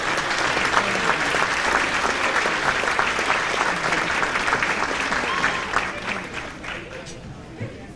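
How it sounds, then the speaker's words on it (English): Audience applause for the Legends Committee at the Cumberland County Legends 2024 event, a loud, full round of clapping with crowd noise that holds steady, then tapers and fades near the end. "Could the Legends Committee please stand for a round of applause"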